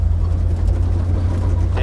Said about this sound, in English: Sounds like it has an exhaust leak, a massive one.